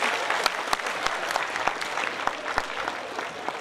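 Awards-night audience at Valley Stream Memorial gives steady, full applause for ninth-grade Principal Award winners, with a few louder individual claps standing out from the crowd.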